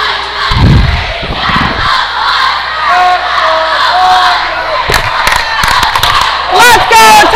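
A large crowd in a high school girls' volleyball gym shouts and chants loudly and continuously, with rhythmic cheering, whoops and occasional thumps echoing through the space.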